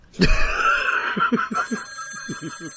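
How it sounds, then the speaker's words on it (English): A telephone rings with a sustained electronic trill, followed by a run of short choppy bursts, fairly close and clear. "the phone's ringing again"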